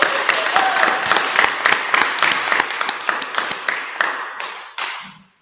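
Applause from a congregation at a Thursday church service with mediumship, dense steady clapping near and loud that builds briefly, then thins and fades out over about five seconds.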